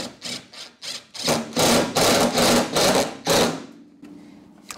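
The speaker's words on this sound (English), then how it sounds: "I'm gonna have to put screws." Screws being driven into a new sill on a 1966 Triumph GT6, a run of close, loud rasping bursts of several seconds each in uneven rhythm, trailing off into quieter scraping.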